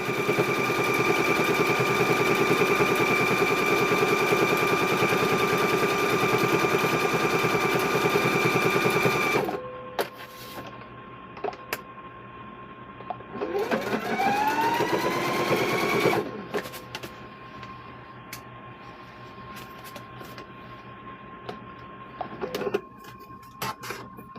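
A sewing machine stitches quilted handbag fabric in a fast, even mechanical whir for several seconds, stops, then runs again in a second burst, with quiet handling clicks in the pauses.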